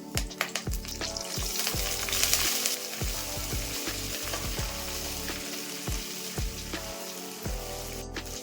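Green chillies, curry leaves and a whole bunch of coriander fry in hot oil for a brinjal chutney, giving a steady close sizzle with frequent sharp crackles and pops and occasional stirring scrapes, no voices.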